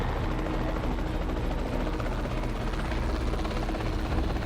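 A helicopter in the dinosaur park game Jurassic World Evolution 2, its rotor thumping as a steady, loud, close drone that holds evenly throughout without a break.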